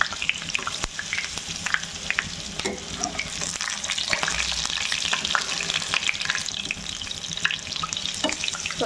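Bread pakoras, just flipped, frying in hot oil make a dense, continuous sizzle with small crackles and occasional clinks, close and fairly loud.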